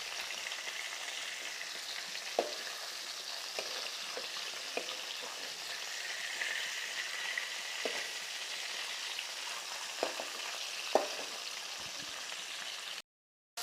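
Fish head pieces fry in hot mustard oil, a steady close sizzle with occasional soft clinks and stirring taps.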